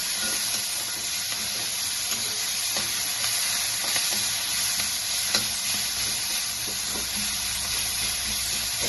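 Bottle gourd seeds sizzle steadily in a hot pan, a continuous close hiss of frying broken by faint scraping clicks as they are stirred, with no talking.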